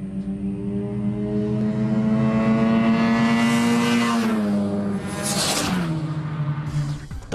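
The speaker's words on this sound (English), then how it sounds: "as we do a lap around Wakefield Park in the mighty RX3" A Mazda RX3 race car with a rotary engine lapping Wakefield Park, its loud, steady, buzzing engine note held high and close, then dipping in pitch as it lifts off and backs down toward the end.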